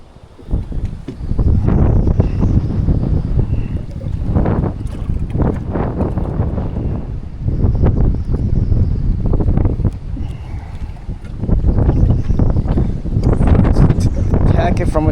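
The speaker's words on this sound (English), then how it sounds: "This wind is crazy." Strong wind buffets the microphone on a kayak during a fishing outing after a storm, a steady roaring rumble with gusting swells, while a person talks over it.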